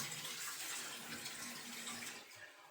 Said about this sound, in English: It's always important to wash your hands, soap and water.